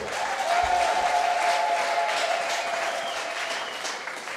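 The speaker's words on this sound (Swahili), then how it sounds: "Hebu mpige Yesu Kristo makofi." A church congregation applauds during a worship service, with steady, dense clapping that fills the room and holds throughout before easing slightly near the end.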